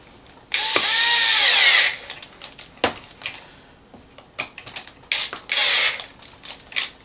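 A power drill runs in a steady loud burst while tightening a bolt on a homemade cart, followed by short scattered tool knocks, creaks and ratchet clicks, with a second brief whirring burst near the end.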